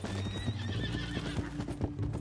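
A horse in Red Dead Redemption 2 whinnies and neighs with hooves clip-clopping, close and steady, while a captive rider is being taken to Saint Denis.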